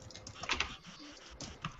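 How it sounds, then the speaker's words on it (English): Typing on a mechanical computer keyboard, with rapid irregular clacking keystrokes close up and fairly quiet, clustered in small bursts with no talking. "I gotta join in this because I got the mechanical keyboard, so it'll be the best sounding one"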